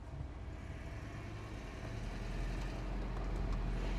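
An MG car drives along with a low, rumbling engine and road drone that rises slightly as it picks up speed, steady and close from inside the cabin.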